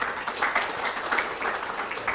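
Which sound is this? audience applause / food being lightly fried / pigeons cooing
audience applause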